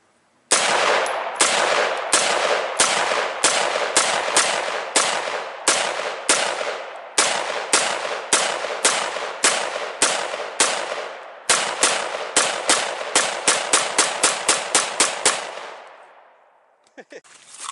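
A .223 Smith & Wesson M&P rifle fires a long string of loud, close shots at outdoor targets, starting at a steady pace and quickening into a rapid burst, each crack ringing into the next.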